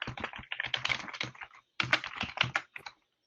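Rapid, furious typing on a computer keyboard, close and loud, in irregular bursts of clicks with a short pause midway, no voices.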